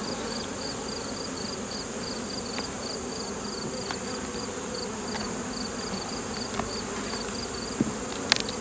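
Honey bees buzz steadily around hive frames during a hive inspection, a dense continuous drone close by with a thin high whine riding above and a few faint clicks and handling knocks.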